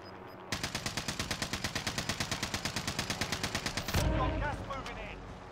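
Rapid automatic fire from a weapon in a shooter video game: a steady burst of about thirty evenly spaced shots over three seconds, loud and close, ending in a heavier blast and rumble.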